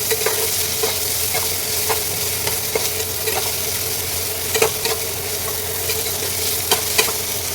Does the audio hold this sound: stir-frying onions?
yes